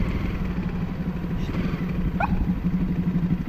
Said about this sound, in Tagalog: may nasundan tayo dito na medyo maingay ang tambutso